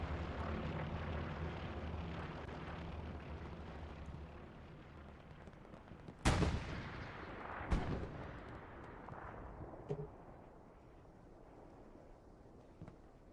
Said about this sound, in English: Recon plane 4. HLLE is coming over.